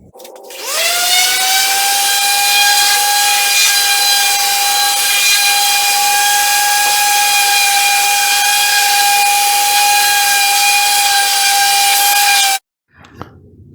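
Power sander running on a wood box, a loud, steady high whine with a strong tonal hum that spins up, holds constantly for about twelve seconds, then cuts off abruptly.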